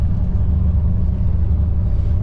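A bus travels along a road in Vietnam, heard from inside the cabin as a steady low engine drone and road rumble, continuous and fairly loud throughout.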